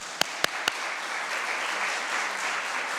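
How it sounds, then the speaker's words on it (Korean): Warm congregational applause fills a church during a Sunday morning service at an air force base chapel, a steady broadband clapping that starts after a few sharp isolated claps and holds evenly throughout. "박수로 환영하겠습니다."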